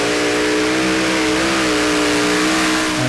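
The Intertechno Lambada pulling tractor revs hard in the arena, a loud, sustained engine roar with a steady, rising harmonic drone.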